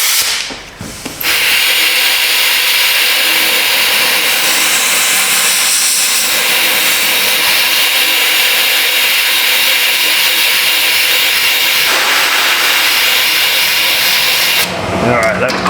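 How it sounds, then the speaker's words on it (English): A compressed-air blow nozzle blasts a loud, continuous hiss onto a 2010 Chevy Malibu air injection system part. The rushing air holds for about fourteen seconds before it cuts off, with brief handling sounds at each end. "Let me get a blow nozzle here."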